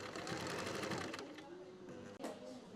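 A sewing machine runs steadily at a tailoring training centre, its dense rapid whirring and stitching chatter filling the space throughout, with a brief dip and restart near the end.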